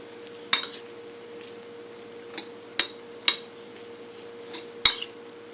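A spoon clinks against a bowl while stirring pico de gallo with sea salt, five or so sharp, close taps spaced irregularly over a faint steady background hum, no talking.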